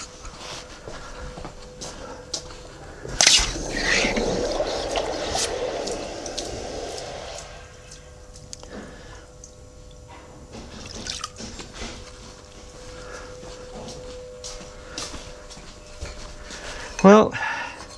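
A hot, freshly cast metal part from a 3D-printed pattern is plunged into water, giving a sudden hiss and bubbling sizzle that slowly dies away into faint trickles and drips, close by with no voices.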